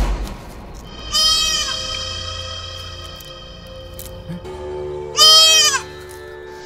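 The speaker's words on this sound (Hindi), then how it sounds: "ये बकरी बन गई हैं, लेकिन सूर्यास्त होते ही ये वापस राधा के रूप में आ गई हैं।" Two goat bleats, loud and wavering, sounding apart within a few seconds over a quiet background in a Bhojpuri film scene, the second louder and closer.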